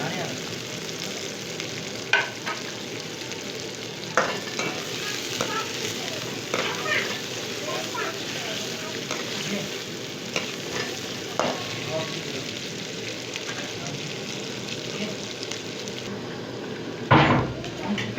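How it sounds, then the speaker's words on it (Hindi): Onions and potatoes sizzle and fry in a pan while being stirred, a steady close crackle with occasional scraping clinks of a utensil against the pan; no one speaks. "गोल्डन होने तक प्याज हमें पकाने हैं।"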